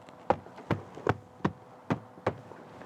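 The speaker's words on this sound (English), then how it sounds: "just give it a smack to clip it into place" Door panel clips on a Saab 9-3 being smacked into place, six sharp evenly spaced knocks, close and distinct against quiet background.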